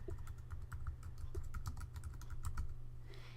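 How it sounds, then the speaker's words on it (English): Steady typing on a computer keyboard, a quick run of close, evenly spaced key clicks over a low constant hum. "if I type surveillance systems"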